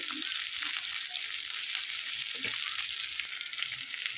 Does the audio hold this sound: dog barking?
no